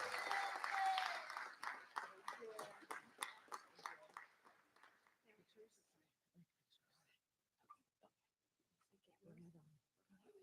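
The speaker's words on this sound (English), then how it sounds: "Let's have another round of applause for all of our educators and support people of the year." Audience applause at a school board meeting honoring the educators and support staff of the year: a quiet, fairly dense round of clapping that thins out into scattered claps and fades away, with faint murmurs underneath.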